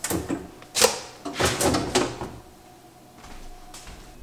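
A refrigerator vegetable drawer slides open or shut in a kitchen, giving a few close, sharp plastic knocks and scrapes in quick succession, then fading to quiet hum.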